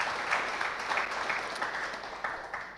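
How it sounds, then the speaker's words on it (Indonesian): Steady audience applause at a short-story award ceremony, moderately faint and even, a wash of many hands clapping without pause. "Jadi kita beri tepuk tangan kepada kita semua."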